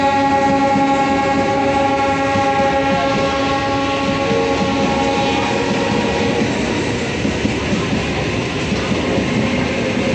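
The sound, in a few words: train passing loudly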